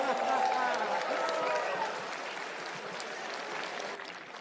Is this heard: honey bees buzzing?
no